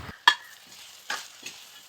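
Oil tempering in a pan for a mango and plantain pickle, with stirring and a few sharp spoon strikes against the pan over a low steady sizzle, close and with no voices.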